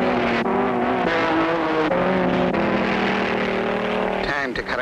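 Cartoon race cars speed along a straightaway in a road race, a steady buzzing engine drone with shifting pitch and a brief burst of clatter near the end, under an excited announcer's voice.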